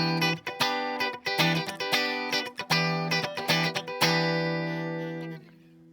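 An electric guitar with a funk tone plays a choppy rhythmic phrase of short chords and single notes, then ends on a sustained chord that fades out, heard close and alone.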